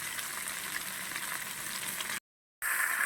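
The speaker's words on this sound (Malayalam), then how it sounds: "എന്നിട്ട് നമ്മൾ അരിഞ്ഞു വെച്ചേക്കുന്ന പൊട്ടറ്റോ, ക്യാരറ്റ്, ബീൻസ്, ഇഞ്ചി, പച്ചമുളക്, വെളുത്തുള്ളി എല്ലാം കൂടി ഒന്നിച്ച് ചേർത്ത് കൊടുക്കാം." Chopped potato, carrot, beans, ginger, green chilli and garlic fry in a pan for mutton stew, a loud, dense hiss that runs steadily, cuts out briefly, then resumes.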